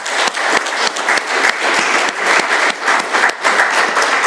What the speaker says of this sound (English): let's give one more round of applause to our speakers.